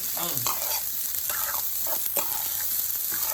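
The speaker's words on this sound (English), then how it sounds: "As you can hear the sizzle, our rice is getting a nice little saute and texture" Rice sizzles and crackles steadily in a hot pan, with a spatula scraping and tossing it in irregular strokes.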